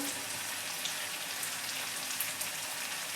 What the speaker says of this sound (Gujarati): આ બધી જ વસ્તુને આપણે એક મિનિટ સુધી ધીમા ગેસે સાતળવા દઈશું